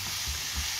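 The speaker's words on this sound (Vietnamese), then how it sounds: "Chảo nóng cho xào luôn." Vegetables already marinated with seasoning stir-frying in a hot pan for noodles, giving a steady, close, loud sizzle with faint stirring thumps and no talking.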